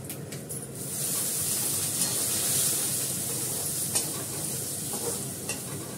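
A bay leaf dropped into hot cooking oil sets off a steady, close sizzling hiss that continues evenly with only small crackles.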